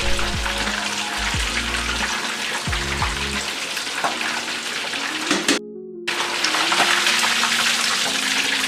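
Cod milt tempura deep-fries in hot oil with a loud, dense, steady sizzle and bubbling, broken briefly by a short gap before the crackle resumes at full strength.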